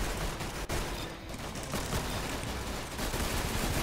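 A PPSh submachine gun fires in the Roblox shooter Arsenal, a loud, sustained burst of rapid automatic gunfire that fills the whole stretch with dense, continuous crackling shots and no speech.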